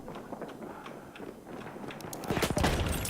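Gunfire in a Battlefield 1 Conquest match, a loud burst of shots rising near the end over busy background game noise.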